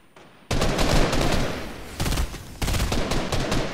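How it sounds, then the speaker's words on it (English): Rapid automatic gunfire in the video game Fortnite crackles loud and close in sustained bursts, with a short pause before a final burst. "someone's firing right at me"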